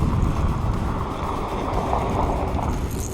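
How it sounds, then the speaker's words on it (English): Wind blowing over a pond, a loud, continuous low rumble of gusts buffeting the microphone, steady with slight swells and no voices. "The wind just started blowing."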